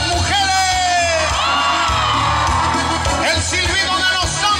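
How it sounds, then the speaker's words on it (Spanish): Women in a crowd at a fair's closing dance screaming and whooping together, a loud sustained mass of high shrieks over thumping live music. "¡El grito de las mujeres!"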